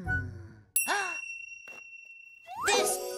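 A cartoon bell dings sharply and rings on with a sustained metallic tone, between brief bursts of animated vocal sounds.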